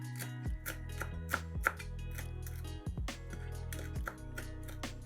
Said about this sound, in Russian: Мелко нарезаем небольшой пучок петрушки.